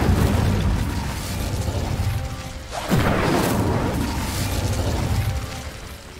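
An Incendio fire spell blast in a Hogwarts video game: a loud, sustained fiery roar with booming bursts and a swelling whoosh midway, with no talking.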